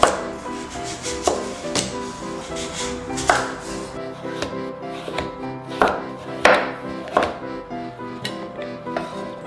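A knife cutting Lipu taro into chunks on a board, with sharp, uneven chops every second or so over a soft background of music, and no one talking.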